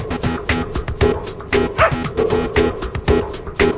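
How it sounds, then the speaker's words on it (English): A dog barks in quick bursts, with short yips and whimpering whines between them, close and loud, with several sharp yaps spread across the span and no talk. "It translates the dog's barks so that you can finally know what they're thinking."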